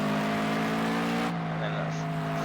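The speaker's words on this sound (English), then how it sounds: "Hear that rev limiter going wild in his car" A Toyota 86 racing at Sportsland SUGO in Project Cars 2 holds a loud, steady, buzzing engine note at the rev limiter, which eases slightly partway through, with commentary spoken over it.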